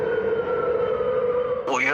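A loud malfunctioning alarm siren wails at night across Taipei, holding a steady sustained tone before sweeping and rising sharply near the end.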